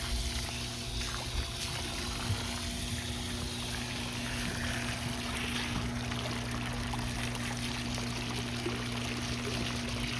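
Hot water from a pool heating pump pours out in a steady, unbroken rush that stays at the same level throughout, with a faint constant hum underneath.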